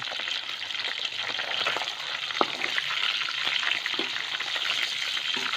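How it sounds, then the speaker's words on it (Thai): Tilapia fries in hot oil for a soup-with-eggplant dish, giving a dense, steady crackle with scattered sharper pops, close and loud, with no talking. "ปลาทอดจะเสร็จแล้วเนาะเดี๋ยวจะเอาขึ้นแล้วนะคะปลาทอด"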